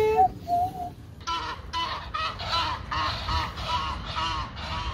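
Ducks quack in a rapid series of loud honking calls near a river in Koblenz, several birds overlapping in a busy, rhythmic burst after a few high single notes.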